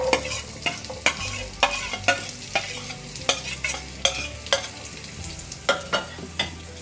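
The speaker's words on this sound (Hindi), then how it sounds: "प्याज को हमें हल्का हल्का कलर चेंज होने तक फ्राई करना है" Roughly chopped onion fries in hot oil in a pan over low-to-medium flame, a continuous sizzle broken by frequent sharp clicks and scrapes of stirring at an irregular rhythm, close by and with no talking.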